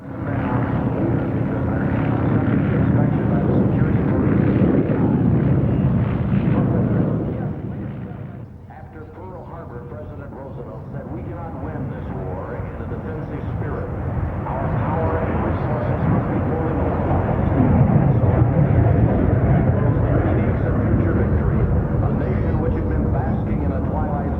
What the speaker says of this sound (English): A review of some of these jet trainers was flown at the Golden Air Tattoo.